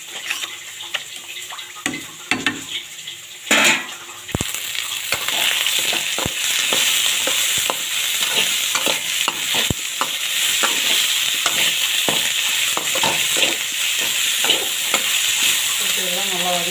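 Onions and spices sautéing in a pan for a dried fish and pirandai curry, with a continuous close sizzle and frequent spoon clacks and scrapes against the pan, alone without talk.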